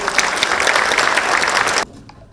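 An audience at a talk on İzmir and the creative industries claps loudly for an arriving speaker. The dense clapping fills the hall, then cuts off sharply, leaving quiet room noise.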